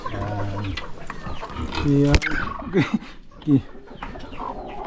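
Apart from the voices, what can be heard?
chicken clucking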